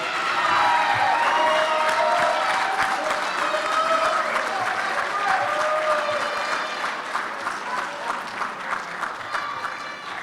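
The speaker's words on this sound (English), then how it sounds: "Let's give this group one big last round of applause." Sustained applause from a large crowd at a 2019 graduation ceremony in Spokane, honoring the graduates; steady and loud throughout, with some voices and cheering mixed in, easing slightly toward the end.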